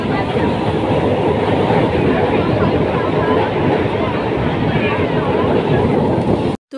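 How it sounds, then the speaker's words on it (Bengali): An ICF passenger train rumbles along in a loud, steady roar, with faint rhythmic clatter heard from on board, before the sound cuts off abruptly at the end. "আমাদের আইসিএফ ট্রেনটাও কিন্তু দেখো চলে এসেছে। তো এখন আমি উঠে পড়ব ট্রেনে।"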